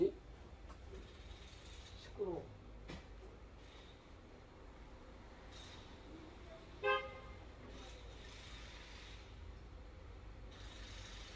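A car horn in a small neighborhood gives two faint, short honks from a distance over a low steady road rumble, with no talk.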